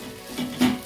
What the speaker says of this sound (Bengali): আমার বেরেস্তা ভাজা হয়ে গেছে।